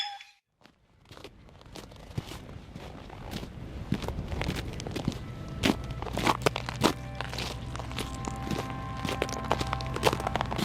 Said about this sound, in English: The sound of a machine moving snow, which they do a lot of at Scott Base.